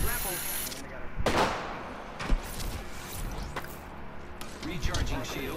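Gunfire in the battle royale video game Apex Legends, bursts of shots and impacts spread through a busy, cluttered game mix, with a louder crack near the middle and game voice callouts over it.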